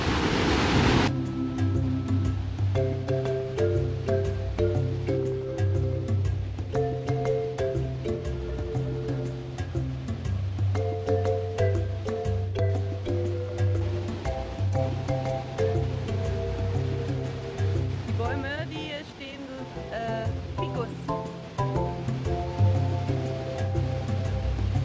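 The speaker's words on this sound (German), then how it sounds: "Jetzt sind wir an einem anderen Wasserfall." A waterfall pours over dammed water near hot springs, a steady broad roar heard close and continuously, with music layered over it throughout.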